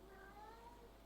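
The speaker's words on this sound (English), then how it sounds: "Yeah, that's my cat. He is very much a talker." A talkative pet cat lets out a short, faint meow with a wavering pitch, heard at a distance indoors over a low steady hum.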